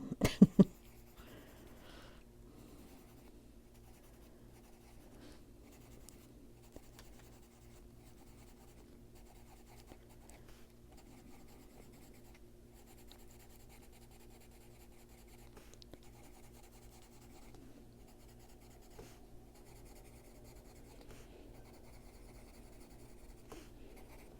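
Colored pencil drawing on paper: faint, continuous scratchy strokes at close range, steady and quiet, after a brief knock at the start.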